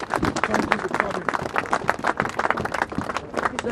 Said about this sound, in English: So give yourself a round of applause, please.